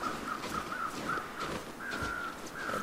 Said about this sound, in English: There's some crows over there.